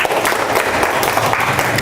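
Loud, close applause from a classroom or lecture audience, a brief dense burst of many hands clapping steadily with no talk over it.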